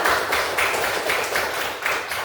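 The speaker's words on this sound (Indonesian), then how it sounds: "Beri tepuk tangan untuk kawan kalian semua" An Indonesian economics class claps for classmates, a dense patter of hands with a loose rhythmic pulse about twice a second, steady and fairly close throughout.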